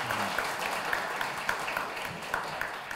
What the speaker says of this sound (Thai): อยากให้พวกเราทุกคนช่วยกันปรบมือให้วิทยากรทั้ง5ท่านบนเวที